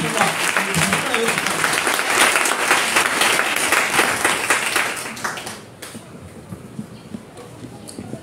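A church congregation applauds Jesus during a French-language sermon in Togo, loud sustained clapping from a large crowd that fades out after about five seconds, followed by quieter room noise.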